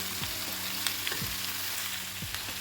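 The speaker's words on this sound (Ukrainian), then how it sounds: "Все, нехай підсмажується." Meat and potatoes frying in a pan during a main-course recipe: steady, close sizzle with several low scraping stirs against the pan at irregular intervals, no voices.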